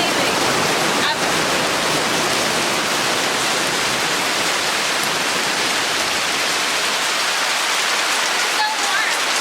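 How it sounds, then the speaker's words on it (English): Heavy tropical rain pouring down in sunshine on St. Lucia, a loud, dense, steady roar of falling water that fills the whole stretch without letup. "it's like pouring, but still sunny"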